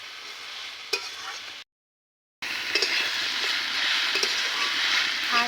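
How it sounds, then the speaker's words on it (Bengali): Pre-fried eggplant and potato, seasoned with salt and turmeric, crackle and hiss in a pan while being stirred, the steady frying noise cut by a brief dead silence partway through. "আর একটুখানি ভেজে নেব।"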